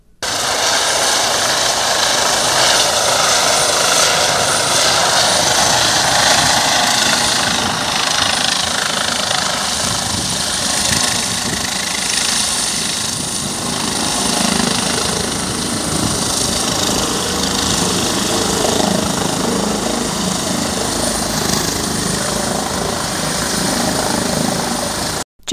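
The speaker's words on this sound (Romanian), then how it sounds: "La locul accidentului a sosit și un elicopter SMURT care l-a preluat pe bărbatul rănit." A SMURD rescue helicopter at a three-car crash scene on the A1 motorway gives a loud, steady rotor and turbine roar that persists throughout, close and dominant, with no speech.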